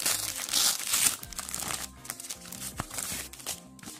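Plastic packaging on a cosmetics catalogue order crinkles and rustles up close as it is opened, loudest in the first second, then continuing as softer, irregular crackles and handling sounds.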